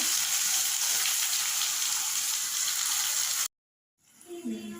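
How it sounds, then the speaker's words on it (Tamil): Steady, dense sizzling bubbling of pirandai (adamant creeper) chutney cooking in oil in a pan, loud and close, cutting off briefly before resuming more softly. "பாருங்கள், நல்லா கொதிச்சிருச்சு. எண்ணெய்லாம் பிரிஞ்சு மேலே வந்துருச்சு."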